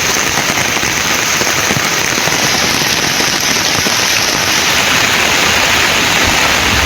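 Heavy rain pours down steadily in Belur near Vazhapadi, Tamil Nadu, during a downpour that floods the streets. It makes a loud, dense, unbroken hiss of water with no voices.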